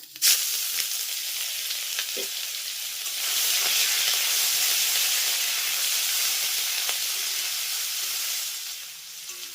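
Panch phoron spices and grated ginger hit hot oil for vegetable chop filling, a loud steady sizzle and hiss that swells after a few seconds and carries on alone.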